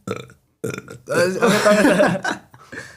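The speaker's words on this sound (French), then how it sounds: "moi, je sais roter sur commande." A person produces a long, loud, deliberate burp on command at close range, preceded and followed by brief bits of talk and laughter.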